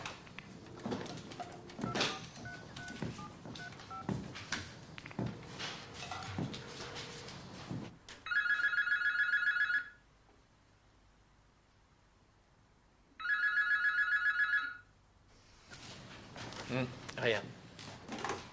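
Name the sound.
telephone dialing and ringing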